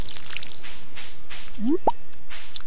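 Water splashing from a watering can onto crops on a farm in the Stardew Valley video game, heard as a few short soft drips and squishy plops over a quiet background.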